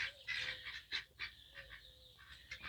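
Turkey on a hobby farm calling in a run of short honking gobbles and yelps, loud and close, with rustling yard noise between the calls.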